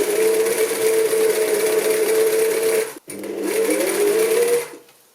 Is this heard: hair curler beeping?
no